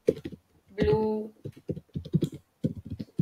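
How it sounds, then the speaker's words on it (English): Keyboard typing on a computer while entering product titles into an Excel sheet, a few short bursts of clicking keys interleaved with someone talking over them. "I'm typing brand name followed by woman dress"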